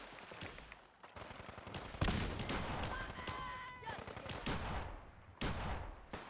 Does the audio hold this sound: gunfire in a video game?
yes